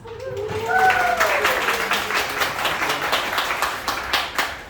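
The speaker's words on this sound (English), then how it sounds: "I want to give you all a round of applause." Audience applause at a coding school demo day, a dense wash of clapping that holds steady for several seconds, with voices and a few tonal sounds mixed in near the start.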